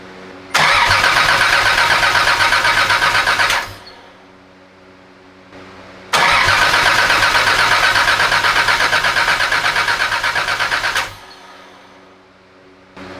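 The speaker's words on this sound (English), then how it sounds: "I'm gonna go ahead and crank the engine a couple times, see what we get as far as oil pressure goes" A newly built car engine cranking over on the starter in two long bursts of about three and five seconds, each a steady rapid churn without firing, separated by a quiet pause.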